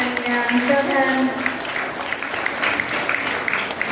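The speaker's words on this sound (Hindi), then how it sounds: "हम सब तालियां बजाते हैं।" Audience applause at a Mahashivratri gathering held by the Brahmakumaris in Uralana Kalan, steady clapping filling the hall while a voice keeps speaking over it.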